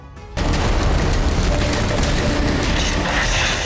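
An explosion goes off in war or military-exercise footage. A sudden loud boom swells into a dense, sustained roar that stays heavy to the end.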